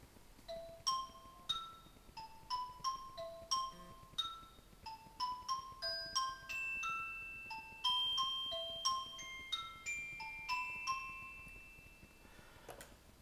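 A composition with the augmented glockenspiel part shifted up two steps and played against a second part. Bright, bell-like struck notes run in a lively overlapping pattern, with some longer ringing tones later on.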